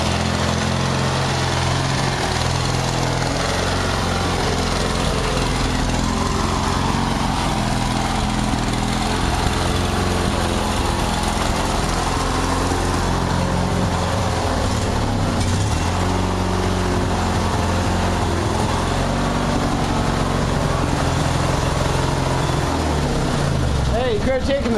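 Craftsman DYT4000 lawn tractor engine running steadily and loud from start to finish, a continuous close drone with people talking now and then over it.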